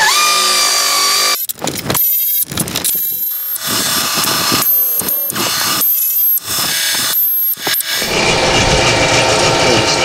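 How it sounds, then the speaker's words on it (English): An air compressor in a garage workshop kicks on with a loud, steady mechanical roar near the end, after a run of clanks, ratcheting and metallic tool knocks. "This compressor is probably going to come on, I'm going to warn you."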